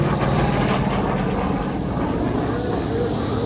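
An FG-1D Corsair, a World War II fighter, flies an aerobatic airshow display, its engine a steady droning rumble with low harmonic tones, moderately loud and slightly distant.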